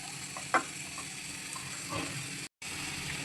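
Eggs, tomato and onion stirred in a hot pan for vegetable noodles, a steady close sizzle with brief clinks of a spatula and one short gap.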